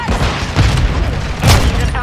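Two booming grenade explosions in a first-person shooter video game, loud and close, with a voice calling out over the noise.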